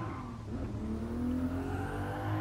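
A Mark IV Supra tuned to 400 horsepower in GT Sport, its engine droning and rising steadily in pitch under acceleration, loud and continuous with no gaps.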